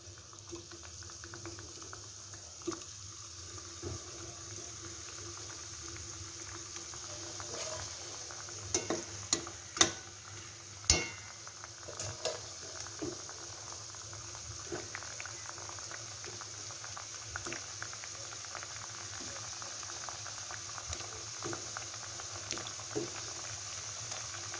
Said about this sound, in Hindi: इसे लो मीडियम फ्लेम पे जो है हमने फ्राई करना है ताकि अच्छी तरह जो है फूले और बन जाए।